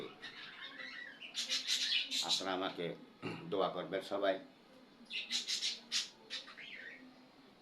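Small birds squawk and chirp in quick bursts close by, with a person speaking in between the calls.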